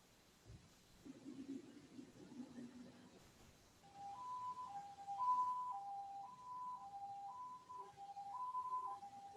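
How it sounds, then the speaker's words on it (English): A high-low evacuation siren alternates steadily between two pitches in a repeating high-low pattern, moderately loud and somewhat distant, after a brief low rumble. "That unique sounding siren is known as the high-low siren."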